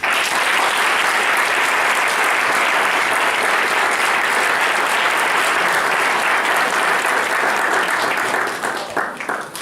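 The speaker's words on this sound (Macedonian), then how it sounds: "Ве молам сите со еден голем аплауз да му дадеме почит на овој великан" Loud, sustained applause from a school audience at a patron's day celebration in Prilep, dense and continuous clapping that thins out in the last second.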